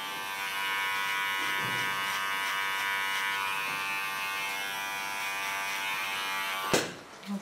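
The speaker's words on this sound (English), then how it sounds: "come to my small clipper. Clean the contour with it." An electric hair clipper cleans up the hair contour during a haircut, a steady, close buzzing hum that runs unbroken for several seconds. It ends with a short clatter of handling.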